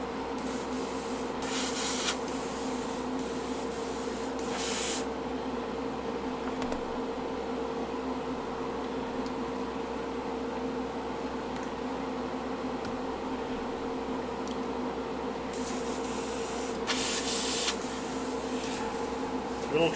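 Short airbrush bursts hiss as paint is sprayed onto a tiki carving, with two clusters of spraying near the start and end and a steady background hum between them.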